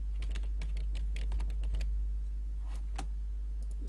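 Computer keyboard typing while entering a name into an Illustrator business card layout: a quick run of close, crisp keystrokes followed by a pause and a couple of isolated clicks, over a steady low hum.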